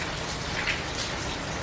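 Heavy monsoonal rain pours down hard and fast during a storm, a dense, steady hiss of drops hitting the ground with no voices over it.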